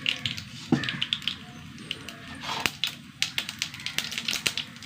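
Mustard seeds crackle in hot oil in a pan, a quiet scatter of irregular sharp pops and ticks, some clustered in quick bursts, with no talk.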